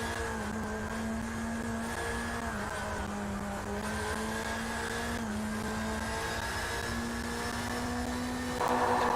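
A Bac Mono race car engine in the racing video game Drive Club VR drones steadily at high revs, its whine rising and falling slightly as it holds speed, with a brief tire squeal near the end.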